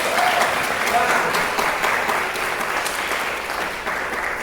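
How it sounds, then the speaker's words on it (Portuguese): A church congregation gives a round of applause for Jesus, a steady wash of clapping that fills the space at moderate loudness throughout, with faint voices mixed in. "Você pode dar uma salva de palmas para Jesus?"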